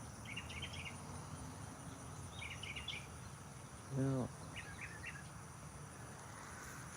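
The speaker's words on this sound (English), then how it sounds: "There's some bird action going." Birds chirp outdoors on a morning homestead near cattle and a donkey, with short, faint high trills coming in brief bursts over a steady insect-like hiss, and a voice speaks once in the middle.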